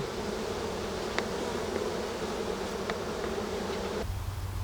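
Honeybees buzz steadily around a beehive, a dense, continuous hum of many insects close by, with a few individual bees passing louder near the microphone.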